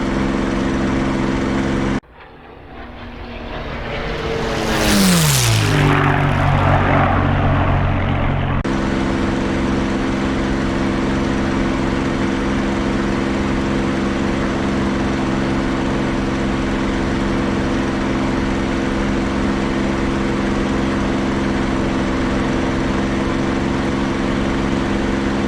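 In DCS World, a P-51 fighter's supercharged piston engine roars loud and steady after a brief dip and sweeping change in pitch as the throttle climbs, then holds a constant drone with no speech.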